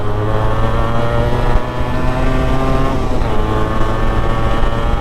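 A Yamaha RXZ two-stroke motorcycle being ridden, its engine droning loud and close with a steady buzzing tone that shifts slightly in pitch as gears change.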